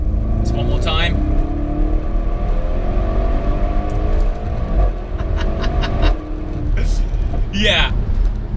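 Audi RS6 Performance accelerating flat-out, a loud continuous engine drone with rising harmonic sweeps through gear changes, heard from inside the car with voices talking over it.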